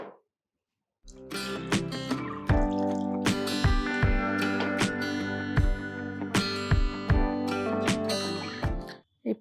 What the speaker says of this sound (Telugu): మరి కాసిన నీళ్ళు కూడా పోయచ్చు